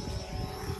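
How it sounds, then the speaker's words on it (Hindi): A camera drone flies overhead at a pre-wedding photo shoot, giving off a steady, continuous propeller buzz that holds at a fairly even level throughout. "drone shoot is going on"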